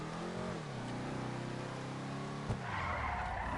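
A Chevy Aerosedan in GTA Online drives with a revving engine whose pitch slides down, then tires skid and squeal loudly as the car slides, close and continuous.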